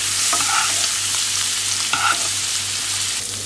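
A cod fillet fries in olive oil and butter in a pan and is basted. A close, steady sizzle runs throughout, with two brief clinks as the spoon pours hot fat over the fish.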